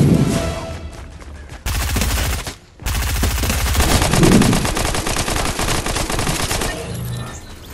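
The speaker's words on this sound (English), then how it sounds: "I hear gunfire." Rapid gunfire in Fortnite, loud sustained bursts of automatic shots with a brief pause in the middle, then continuing heavy firing that fades slightly at the end.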